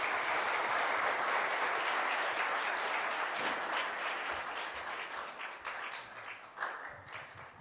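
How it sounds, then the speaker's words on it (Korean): Congregation applause welcoming a pastor at a Friday church gathering, a full room of clapping that starts strong and gradually thins and fades, with a few scattered claps and faint movement toward the end. "박수로 환영하겠습니다"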